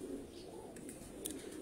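Pigeons coo softly and steadily at a Lahore breeder's loft, where the birds include a Teddy cross, under a low murmur of ambient noise.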